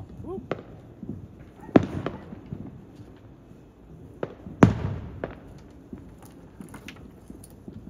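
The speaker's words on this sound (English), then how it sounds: "we're shooting off fireworks" Fireworks shot off outdoors near an aquarium, with several sharp bangs and crackles spaced irregularly over a background of talk and ambient noise, two louder pops standing out.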